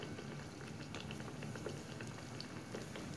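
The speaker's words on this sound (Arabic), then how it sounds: "درت الزيت كتسخن بسم الله بعد ما سخنات كنجي كنحط فيها مباشره هاد الفطائر" Yogurt and egg fritters fry in hot oil, a dense, even bubbling crackle that stays steady and fairly faint throughout with no speech.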